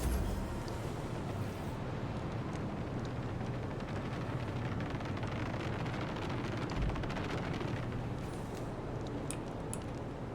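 Torpedoes fired during space combat in the video game Rogue Trader: a dense, continuous roar of rumbling blasts and explosive bursts, loud and sustained with scattered sharper cracks near the end.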